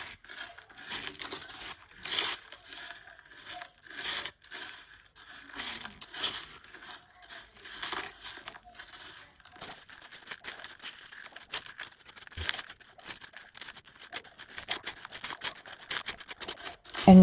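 Scraping and crunching of crushed glass being mixed into resin on a board for a calligraphy wall hanging, repeated gritty strokes in an uneven rhythm, close and fairly loud, with no talking.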